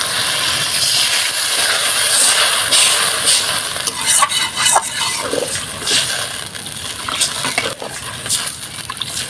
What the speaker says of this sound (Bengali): এখন আমি এখানে ঝোলের জন্য পানি দিয়ে দেবো